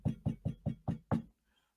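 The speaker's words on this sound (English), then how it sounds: "I have to knock on wood" Six firm knocks on wood, evenly spaced and close, each a sharp hollow thump with a short decay, followed by near silence.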